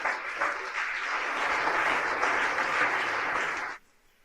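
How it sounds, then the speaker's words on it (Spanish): Church congregation clapping in sustained, dense applause for a few seconds at moderate distance, ending abruptly into quiet. "denle un aplauso a Cristo, que Él se lo merece"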